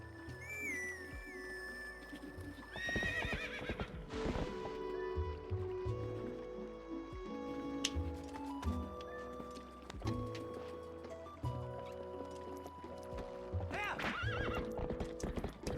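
A horse neighs and whinnies while hooves clop steadily in Zelda: Twilight Princess on the GameCube, all set against continuous music throughout.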